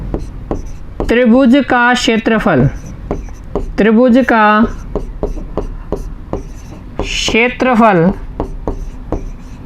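A hand writes out a math solution, its short scratchy strokes and taps filling the gaps between stretches of someone speaking Hindi nearby.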